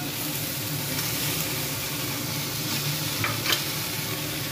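Fried vegetables go into a small kadai with a ground poppy-seed and radhuni paste, and a steady close sizzle of frying runs throughout with soft scraping of stirring and a brief clatter near the end.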